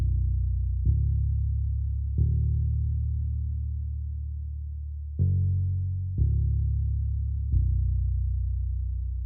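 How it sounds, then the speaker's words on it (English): A warm, dry old-school synth bass plugin plays five long, sustained low notes with soft attacks, each held and slowly fading, alone without effects. "it has like a pretty legit old school classic bass sound"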